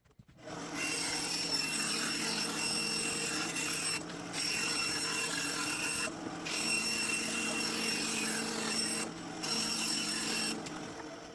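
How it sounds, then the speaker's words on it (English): A bandsaw with a dull blade cutting holster material, giving a steady, close, loud rasping whine that drops out briefly three times before resuming. "I gotta tell you, my bandsaw blade is dull."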